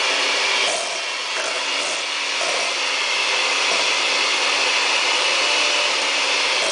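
An electric hand mixer whirs steadily while beating cream cheese for a pâté, a continuous broadband motor drone that stays even and close throughout with no talking.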